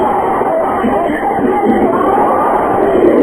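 Audience at a religious majlis lecture chanting slogans together, a dense continuous roar of many voices filling the hall at steady loudness throughout.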